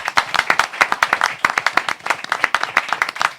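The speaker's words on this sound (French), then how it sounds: "on peut les applaudir" A small audience at a French talk show claps for the technical crew, a few hands striking quick, sharp, uneven claps close by for a few seconds.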